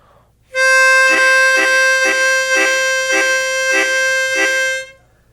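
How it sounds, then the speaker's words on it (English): Harmonica chord made by pulling the tongue away from the holes: a bright, reedy multi-note chord sustained for about four seconds, pulsing in six even throbs, close and loud with no talking. "you can pull the tongue away and get a chord sound like this"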